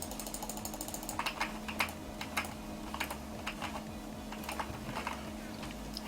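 Computer mouse and keyboard clicking during a Minecraft Survival Games session, with a run of quick, close, crisp clicks over a low steady hum, irregular and soft.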